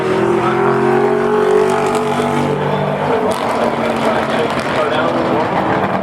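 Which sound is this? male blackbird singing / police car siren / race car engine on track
race car engine on track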